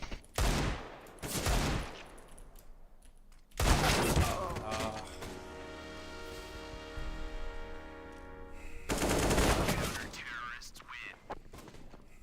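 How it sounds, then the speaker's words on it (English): A grenade blast in Counter-Strike on the Mirage map, a sharp loud burst among clustered gunfire and impacts, with a ringing tonal aftermath, under someone talking over the game. "I'm throwing a grenade. Bam."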